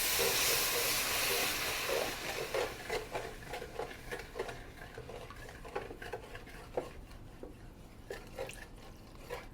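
Chicken stock poured into a hot pan hisses and steams loudly at first, then settles into scraping and stirring clicks as a utensil works browned bits off the bottom, close and steady with no talk.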